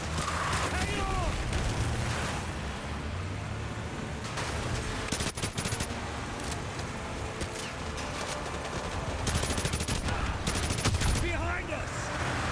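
Rapid machine gun fire in Call of Duty Modern Warfare 2, with sustained bursts mixed with booming blasts and battlefield noise, while voices shout over the din.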